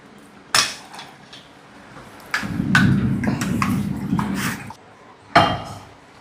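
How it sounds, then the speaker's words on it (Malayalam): A metal cooking pot is set down while egg masala is being made, with a sharp clank at the start, a longer scraping rumble in the middle and another clear metallic knock near the end. "പാത്രം വെച്ചു നമ്മൾ."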